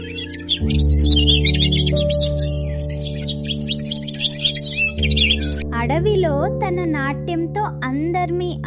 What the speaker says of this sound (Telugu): పక్షులు కీల కీల రావాలతో ఆహ్లాదకరంగా ఉంది